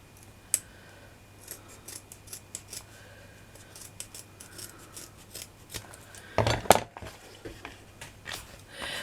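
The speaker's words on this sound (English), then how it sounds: "So I'm just going to cut that into a kind of circle." Scissors snip through non-fraying fabric, cutting it into a circle for a fabric pumpkin craft: a string of quiet, crisp, irregular cuts close by, with a louder scraping burst near the end.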